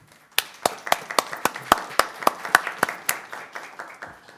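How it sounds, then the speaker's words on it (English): Applause from an audience at a district special meeting honoring a team: a run of sharp, fairly loud claps in an irregular rhythm, starting sparse, then filling in and tapering off, with no talking over it. "Let's give them a round of applause."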